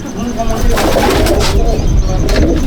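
Pigeons coo in a pigeon loft in Jangipur, Murshidabad, a steady low murmur running throughout, with someone talking over it.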